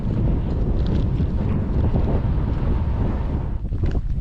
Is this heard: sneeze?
no